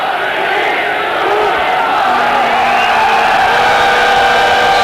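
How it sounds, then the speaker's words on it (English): A large stadium crowd at a 1994 World Cup hockey final between Pakistan and the Netherlands roars in a steady, loud, continuous swell as the first half counts down. "The crowd counting down the first half."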